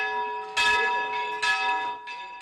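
Church bell ringing in the town of Bashiqa near Mosul, two loud, clear strikes with long ringing overtones, then a third softer strike.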